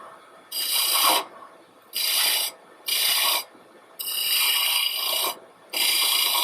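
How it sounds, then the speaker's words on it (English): Bowl gouge cutting a deep groove into wood on a lathe, giving five separate rasping, hissing bursts of about half a second to a second and a half each, loud and close with short quiet gaps between them. "creating a really deep groove with, I know it's a bowl gouge"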